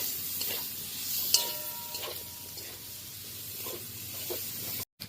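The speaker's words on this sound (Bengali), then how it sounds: "জিরে এবং ধনে শুকনো লঙ্কা চারটা কিন্তু একসঙ্গে বাটা দিয়ে একটু ভালো করে কষিয়ে নেব" Ground paste of ginger, cumin, coriander and four dried chillies frying in a pan, a low steady sizzle with a few faint stirring scrapes, close and without voices.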